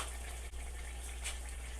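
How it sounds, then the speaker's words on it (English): Steady running water fills a bowl halfway for a chicken thigh sauce, a continuous close hiss with one brief dip partway through and no voices. "fill it up with some water"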